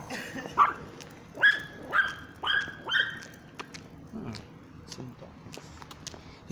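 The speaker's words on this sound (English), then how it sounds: "There's some dogs, a little black dog and a little white dog." A little black dog and a little white dog bark several times in quick sharp yaps, fairly close, then fall into softer yips and whimpers under quiet background noise.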